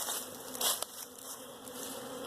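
Honeybees buzzing around an open hive during a spring inspection, a close, dense, continuous hum with a few louder passes near the ear.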